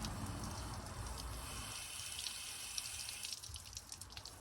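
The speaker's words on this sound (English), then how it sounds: "just shoot that water up into the hole and kind of like rehydrate the bottom of the soil ball" Water squirted from a bottle or hose into the drainage hole of a large terracotta pot, a faint steady hiss and trickle with a few soft drips near the end, close and quiet without speech.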